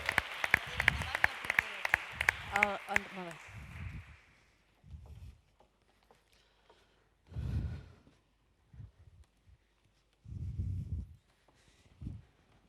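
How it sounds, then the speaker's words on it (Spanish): Applause breaks out from an audience at a vocational-training forum as speakers take the stage, with loud clapping for about four seconds, then fading into scattered shuffling and low voices. "Un fuerte aplauso para ellos que toman el escenario."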